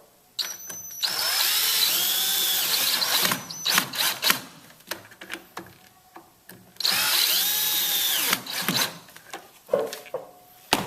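A power drill drives screws into pocket holes of a wooden joint frame, two loud sustained whirring bursts of about two seconds each, followed by scattered clicks and handling knocks of the tool and wood between them.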